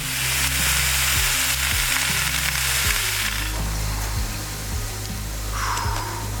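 Vegetables sizzling loudly on a Blackstone 17-inch griddle, a dense, constant frying hiss close up, with a low hum running underneath.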